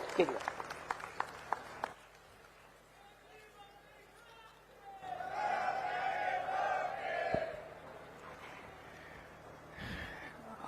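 A large outdoor political rally crowd in Barnala, Punjab, bursts into cheering and applause to welcome Arvind Kejriwal after an announcer's voice, the roar swelling for a few seconds then settling back under continued talk.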